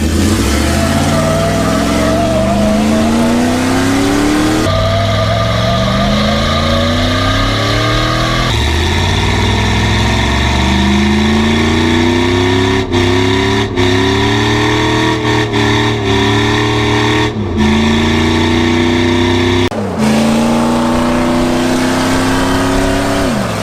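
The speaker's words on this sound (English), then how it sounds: "Bet you won't do a burnout." A car doing a burnout in a custom garage setting, its engine revving hard and loud through repeated climbing surges, shifts and brief lifts, sustained for over twenty seconds.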